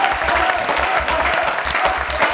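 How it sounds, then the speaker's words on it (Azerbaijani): A studio audience on a television game show gives a dense, loud round of applause, continuous clapping with a low rhythmic thumping underneath. "Alqışlar."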